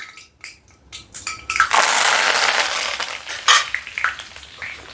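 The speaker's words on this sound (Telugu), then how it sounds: "ఆయిల్ వేడైందండి ఒక మూడు రెబ్బలు కరివేపాకు వేసుకుందాం" Curry leaves dropped into hot oil in a pan burst into a loud, close crackling sizzle that swells and then settles into steady frying, with a few stirring clinks near the end.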